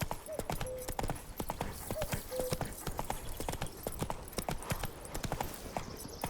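Roach the horse gallops in The Witcher 3, with a steady, fast clip-clop of hooves close by and brief snorts over ambient game sound.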